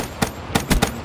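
Rapid gunfire in a first-person video game, a burst of five or six sharp, loud shots in quick succession with uneven spacing, heard up close with no talking.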